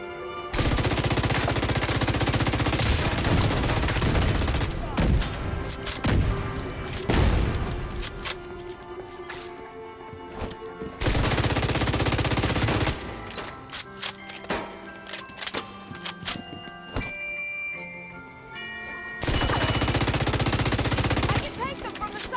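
Gunfire in the video game The Division 2 during a dust storm event, with dense bursts of automatic rifle fire and booming shots that come in long loud stretches, plus sharper scattered shots in the quieter gaps.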